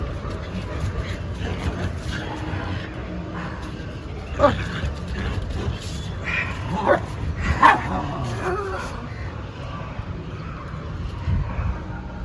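A dog barks and yips a few times, sharp individual barks spaced several seconds apart, over a murmuring background with voices and a low steady hum.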